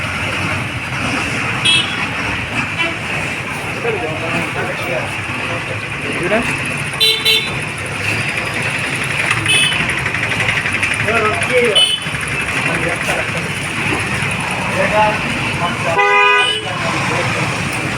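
Vehicle horns toot repeatedly through a steady rumble of idling engines in a daily traffic jam at Anumasamudrampeta, with the busy road noise continuous and fairly loud throughout.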